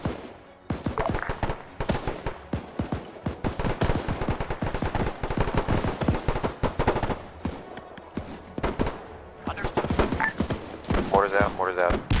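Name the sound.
gunfire in the video game Henderson Airfield battle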